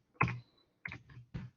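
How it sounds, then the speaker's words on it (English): Three soft, separate key presses on a computer keyboard as data is entered, each a brief close click followed by a short silence. "So I'm typing in the data."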